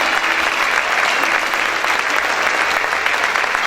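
A church congregation claps hard and continuously, a thick, even roar of many hands with no pauses.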